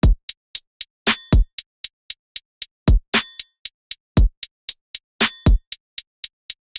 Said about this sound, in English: let's say I lay down a very simple drum pattern that sounds like this inside the channel rack